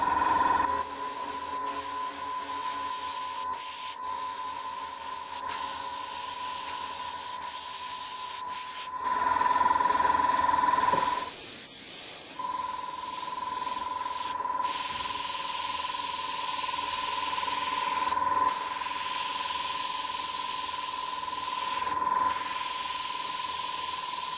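A new, cheap airbrush spraying paint onto plastic, a continuous close hiss interrupted by short gaps and sputtering spits, with a faint steady tone from the compressor underneath.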